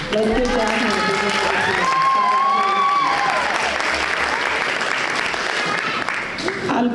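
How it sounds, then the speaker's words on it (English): Graduation ceremony audience applause, steady and fairly loud, with a speaker's voice carrying over it for most of the stretch. "You could applaud harder."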